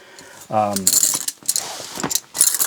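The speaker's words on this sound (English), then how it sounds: "I'm putting all of the wrenches in" Metal ratcheting wrenches, Snap-on and Gearwrench, clink and jangle as they are slid into a wrench roll, with several close bright clattering bursts separated by short pauses.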